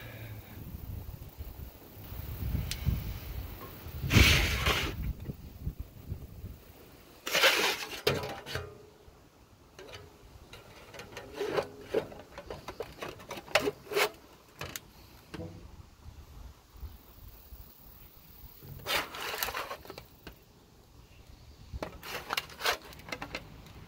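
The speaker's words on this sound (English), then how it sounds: "this is a little metal forming tool that I've bought at Harbor Freight. It's supposed to help you bend sheet metal." Small Harbor Freight hand metal forming tool bending sheet metal: several sharp metallic clanks and scraping bursts at irregular intervals, close and fairly loud, with quieter handling noise between them and no talk.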